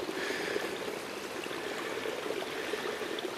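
Steady broadband rush of the Rogue River's current in Oregon, flowing continuously at moderate level with no voices.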